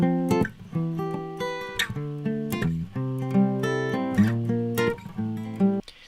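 Acoustic guitar playing a picked chord progression under an EQ filter sweep that shifts the tone as it pans from left to right, clear and close with no voices.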